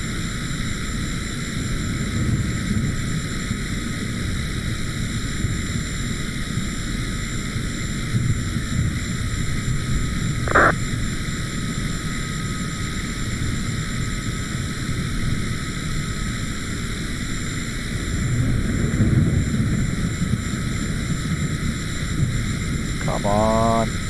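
A Cessna 208B Caravan turboprop in Microsoft Flight Simulator 2020 runs in a steady droning hum with a constant whine, holding level for the whole stretch, with a brief chime partway through.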